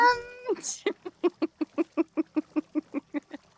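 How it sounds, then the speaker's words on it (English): A cat girl character in a video game meows in a rapid series of short, evenly spaced calls, about fifteen in a row, after a longer opening vocal sound and a brief hiss. "Meowing isn't an epidemic for her."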